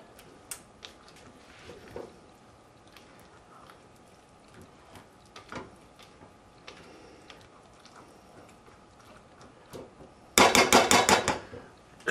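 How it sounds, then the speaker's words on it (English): A spoon scrapes and clatters briskly against a pot while stew ingredients with celery tops are stirred, a short loud burst near the end after a stretch of faint kitchen clicks and taps. "Stir it all up."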